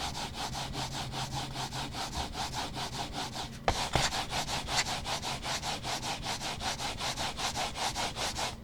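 A mouse glides back and forth over Artisan FX Hyate gaming mouse pads in steady rhythmic strokes, a dry, raspy scraping close to the mic, with a brief knock partway through and no talking.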